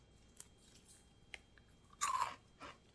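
Someone bites and chews a crunchy packaged snack in a home kitchen while pork with kimchi cooks nearby, giving a few soft crunches and then a louder burst of crisp chewing close to the mic, with no talking.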